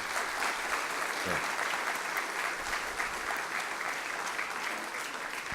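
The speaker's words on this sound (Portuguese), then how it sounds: "Palmas para o nosso ministro." Graduation ceremony audience for an economics degree applauding steadily, a dense continuous wash of many hands clapping in a large hall, moderately distant and sustained throughout.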